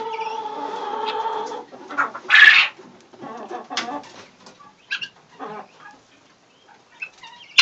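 Chickens cluck and squawk nearby alongside sharper, scattered calls from guinea hens, with intermittent bursts and quiet gaps between.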